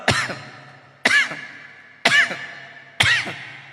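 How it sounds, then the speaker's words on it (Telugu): Four harsh coughs, evenly spaced about a second apart, close and loud, each fading quickly. "ఇలా దగ్గుతా ఉండాలరా"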